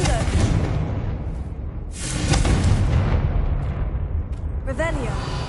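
In the Hogwarts Legacy video game, a Confringo spell bursts inside a witch's tomb with a loud, deep explosion and a rolling, sustained rumble, followed by crackling debris and a brief swooshing shimmer.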